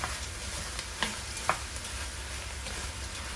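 Frozen field peas sauteing in a pan while being stirred, a low steady sizzle with a few light scraping clicks of the spoon, fairly quiet and close, with no voices.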